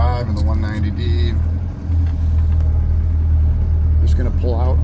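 A 1963 Mercedes-Benz 190D diesel car pulls out with a deep, steady low engine rumble heard from inside the cabin, while someone talks over it in short bursts.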